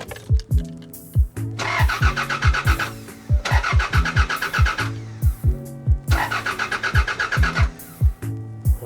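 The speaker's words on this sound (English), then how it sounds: "I'm just gonna give it a few cranks real quick, just to get it some oil pressure" A Toyota MR2 engine cranks over without starting, the starter whirring in three bursts of rapid, rhythmic chugging, close and fairly loud, with short pauses between them.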